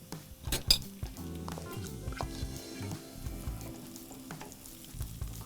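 Carrots frying in butter for fried rice, a clear close sizzle broken by the repeated clink and scrape of a utensil stirring against the pan, with no voices.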